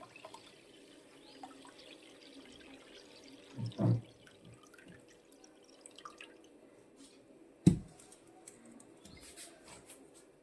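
Water drains from a strained pulp of sprouted millet, heard as a few faint, sparse drips and two brief soft splashes in an otherwise quiet room.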